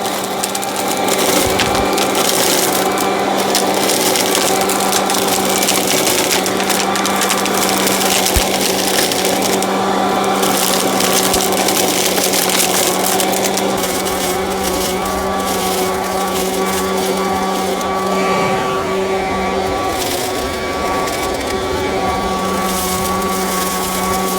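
An AIVOLT 40V cordless leaf blower and vacuum runs at its fourth speed, a steady loud motor whine and rushing air that holds for the whole stretch with a slight dip in pitch near the end.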